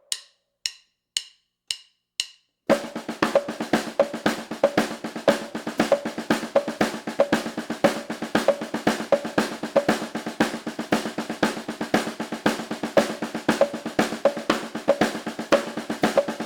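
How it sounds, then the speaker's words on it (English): Drum hi-hat played in steady quarter notes against a click: a few isolated click ticks first, then a dense, continuous run of crisp metallic hits keeping an even pulse, loud and close. "you need to get your hands and the quarter note with your hi-hat against this click"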